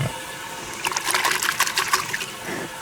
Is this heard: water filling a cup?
yes